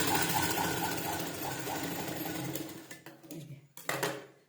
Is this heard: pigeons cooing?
no